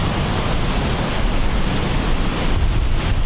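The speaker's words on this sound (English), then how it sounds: "It is crazy windy here. This is some serious wind." Strong wind buffets the microphone on an island coast, a constant loud roar mixed with surf from the water-filled shoreline, steady throughout with no voices.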